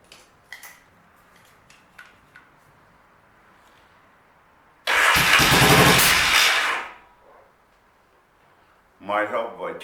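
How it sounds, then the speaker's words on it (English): A 1979 Yamaha XS650 motorcycle with newly installed carburetors starts: a few faint clicks and taps, then a loud close burst of engine noise for about two seconds that dies away, followed later by a brief second burst. "this bike starting up with the new carbs installed on it"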